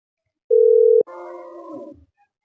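A single steady phone tone for about half a second, cut off abruptly and followed by a brief, louder burst of tonal ringing that fades out, heard alone with no talk.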